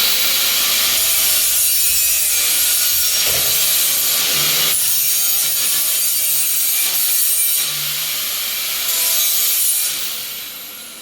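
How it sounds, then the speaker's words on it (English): An angle grinder profiles a cut tube at a workbench inside a factory built into a 53-foot reefer trailer. The abrasive grinding is harsh, steady and close, runs almost without a break, then fades toward the end. "We profile it in with the grinder"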